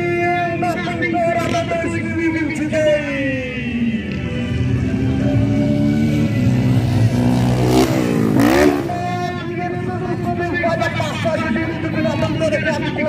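Motocross motorcycle engines rev and rise in pitch together at the start of a race in a championship event at Iati, Pernambuco, a loud sustained engine roar under a commentator's speech and crowd noise.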